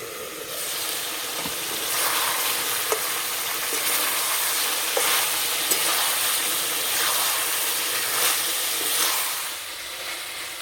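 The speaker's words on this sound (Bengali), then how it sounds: "এইভাবে কয়েকবার চাপা দেবো, নেড়ে দেবো, তাহলে মাংস খুব তাড়াতাড়ি কষানো হয়ে যাবে" Chicken pieces fry in a little oil for a Bengali chicken posto. A continuous close sizzle and hiss fills the clip, broken by repeated scraping stirs and occasional clinks of the spatula against the pan.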